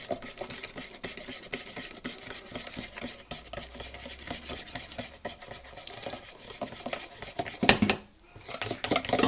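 A utensil stirs and scrapes lemon curd in a saucepan with steady, quick rhythmic clinks and swishes, close and moderately quiet, with no talking.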